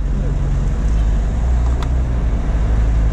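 A Porsche GT3 RS car on a road, heard as a steady close engine and traffic rumble with a brief sharper swell midway as it moves by, under faint background noise.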